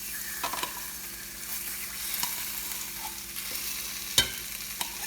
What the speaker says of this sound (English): And I brown the paste with the garlic.